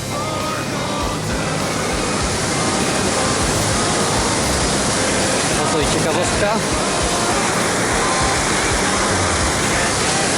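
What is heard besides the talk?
river flowing under a building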